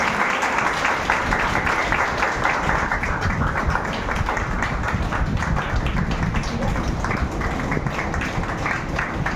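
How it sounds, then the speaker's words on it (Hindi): Loud, dense applause from a church congregation at a thanksgiving celebration for an extended church building, steady clapping filling the room without a break from start to finish. "जोर से तालियों के लिए कोई चीज पर भी सुना करना।"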